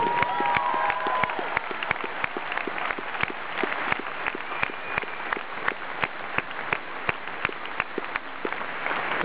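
Concert audience applauding a Slovak chamber orchestra at a live show in Oberhausen: steady dense clapping fills the hall throughout, with sharper individual claps standing out and faint crowd noise underneath.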